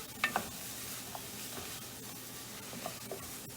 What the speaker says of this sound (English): Just kind of mix it, make sure the butter coats it.